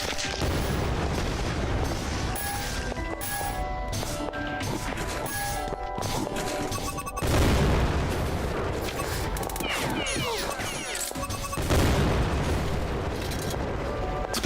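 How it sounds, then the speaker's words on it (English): Mines detonate in a video game, producing a busy, continuous barrage of booms, crashes and gunfire-like bursts with two heavier blasts partway through, all loud and dense. "Explosions everywhere."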